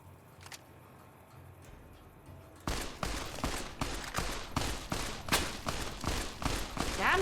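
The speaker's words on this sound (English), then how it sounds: "so we'll go with a varmint rifle" Rapid gunfire from a varmint rifle in Fallout: New Vegas at close range, a quiet lead-in giving way to a loud, dense string of sharp shots continuing to the end.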